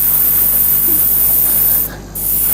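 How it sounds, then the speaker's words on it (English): An airbrush sprays paint onto a model kit with a loud, steady close-up hiss that cuts out briefly near the end, then resumes. "I'll be spraying like this."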